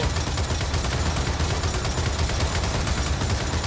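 Continuous rapid turret gunfire in Gears of War 4, a dense, loud, unbroken rattle of shots filling the whole stretch with no pause and no talking.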